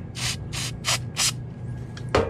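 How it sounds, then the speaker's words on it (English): Brake cleaner sprayed into a fuel part of an inverter generator under repair: four short hissing bursts in a quick even rhythm, close and loud, then a softer short spray and a final sharp burst. "Okay, next I'm gonna insert my brake clean here."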